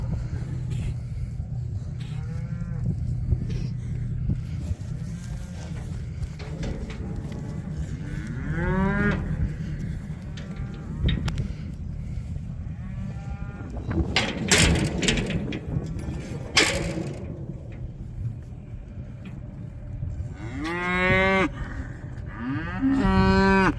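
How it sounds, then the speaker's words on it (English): A yearling bull at a new pasture bellows several times in long, loud moos spread across the stretch, with low rumbling background noise between the calls. "This is the yearling bull I raised up"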